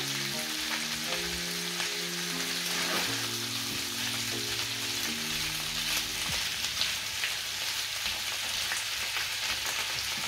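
Food fries in a pan of oil while a meal is cooked, a steady dense sizzle with crackling pops held throughout, with soft background music and no talk.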